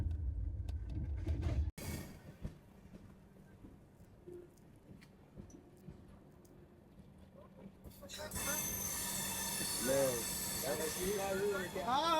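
A train pulls in at platform 3 of a busy Indian station, with a long steady hiss and rumble, rising screeches of wheels or brakes near the end, and people talking in the background.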